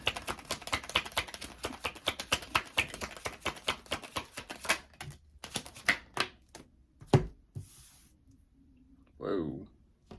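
Tarot cards handled and shuffled in quick, crisp riffling bursts and taps, fairly close, with brief pauses and a short louder flurry near the end; no one talks.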